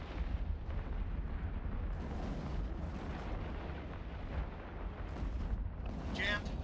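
Bombs detonating in a large EVE Online space fleet battle against a capital ship, a dense continuous roar of booming blasts with a sharp burst near the end, under voice chat.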